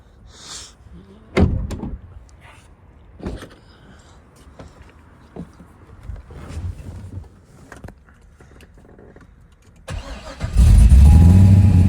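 A cammed LS2 Corvette with an opening-and-closing exhaust valve, where a car door clunks shut and a few handling knocks are followed by the engine cranking and catching into a loud, rumbling idle close by.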